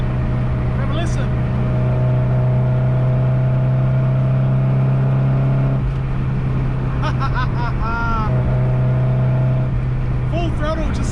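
A car engine runs at full throttle with a throaty exhaust, a loud steady drone close up that holds for the whole stretch, while someone speaks over it.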